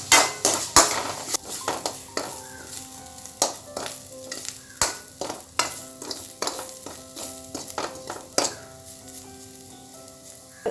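Ginger sautés in a pan for Kerala-style ginger curry, with a soft sizzle under repeated close metallic clinks and scrapes of a spoon against the pan, no talking.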